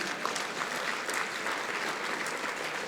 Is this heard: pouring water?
no